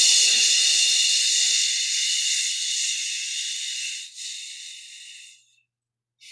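A long, steady hissing exhale makes the qigong liver healing sound during a spring women's practice, breathy and close, fading out after about five seconds, followed by a short breath.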